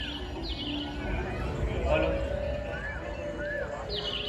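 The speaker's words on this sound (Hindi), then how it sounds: "पक्षियों की आवाज आ रही है।" Small birds chirp in short, rising calls during an outdoor Ramlila stage performance, with a few distinct tweets standing out over a steady, noisy background with voices.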